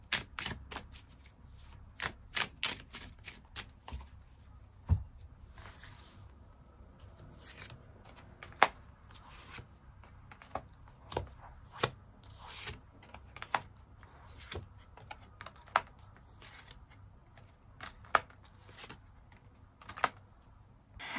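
Tarot cards being shuffled and drawn for a reading, soft close rustling and scraping of card stock punctuated by a series of crisp snaps and taps spread irregularly over the span, no voices.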